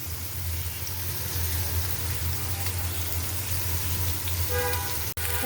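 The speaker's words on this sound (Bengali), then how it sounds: "অল্প আছে, আমি বেগুনগুলো একটু ভাজা নিব।" Eggplant pieces frying in hot oil for a curry, a steady close hiss of fine crackle with a low background hum, no voices.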